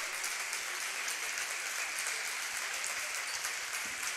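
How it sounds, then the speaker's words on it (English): Sustained applause from a gym crowd giving a standing ovation at a Waynesville vs. Eureka girls' high school basketball district game, dense even clapping heard from a distance without clear voices. "the hugs and applause here. Standing ovation on the Waynesville side of things"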